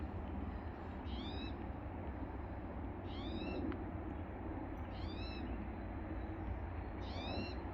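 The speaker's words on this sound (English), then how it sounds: "I think it's a stellar jay" A Steller's jay gives four short, harsh calls spaced a couple of seconds apart, faint against a steady low outdoor rumble.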